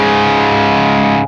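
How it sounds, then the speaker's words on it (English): A loud, thick overdriven electric guitar chord through a Browne Carbon V2 pedal on its classic middle toggle setting, sustaining alone for about a second before being choked off. "because if the toggle switch is in the middle, that's your classic Browne Carbon setting."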